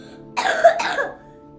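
Cooper, a man in the 2014 film Interstellar, coughs a harsh two-part cough close up, one burst quickly followed by another, with no talking around it.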